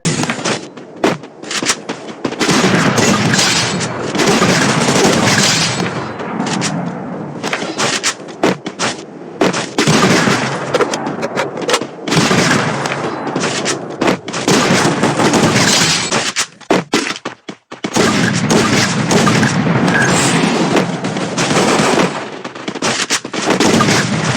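Rapid bursts of sniper and other gunfire from a PC shooter game, loud and nearly continuous with brief gaps, layered with blasts and clatter and no speech.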